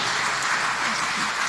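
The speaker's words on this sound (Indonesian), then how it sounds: "Mari kita beri tepuk tangan yang paling meriah buat Pendeta Argo dan Gus Mansur." An audience at a Christmas church gathering applauds, a dense, steady roar of many hands clapping together without a break.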